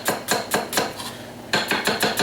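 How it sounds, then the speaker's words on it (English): A kitchen knife julienne-slices an onion on a cutting board: quick, evenly spaced crisp chops up close, a brief pause, then another run of strokes, with no talking. "So I'm going to do a real quick julienne onion for you"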